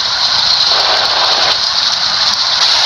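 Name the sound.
rain in a bus simulator video game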